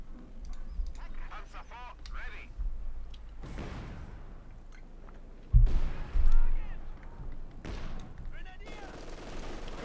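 Gunfire in Company of Heroes 2, a machine gun and rifles rattling in bursts amid battlefield clutter, with a heavier burst near the end; a voice talks over much of it.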